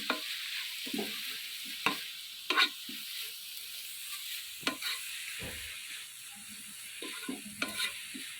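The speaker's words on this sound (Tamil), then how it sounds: "குழந்தைங்களுக்காண்டி இது நல்லா இப்படி நெய்யில் வதக்கிக்கணும்." Ingredients for Ashoka sweet sautéing in ghee in a pan, with a soft steady sizzle beneath repeated sharp scrapes and knocks of a spoon stirring against the pan at irregular intervals, close by, with no talking.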